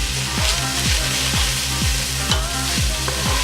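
A spoon stirs chopped spring onions through crab frying in sweet and sour sauce, making regular scraping strokes about twice a second over a constant sizzle.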